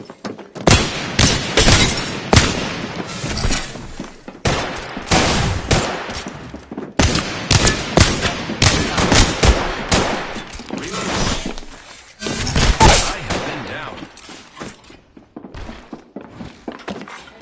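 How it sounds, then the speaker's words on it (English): Bursts of video game gunfire fired at the player in a shooter, sharp loud volleys and thuds repeating in clusters across the stretch with brief gaps between, no talk over them. "They're shooting at me."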